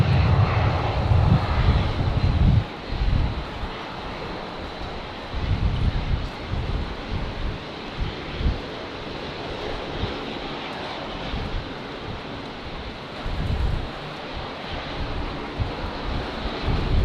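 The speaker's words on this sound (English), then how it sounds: "So Qantas 707 is coming in on 19 right from Cairns." A Qantas jet arriving from Cairns lands on runway 19 right at Brisbane Airport, its engines roaring loudly and steadily nearby under gusty wind buffeting the microphone.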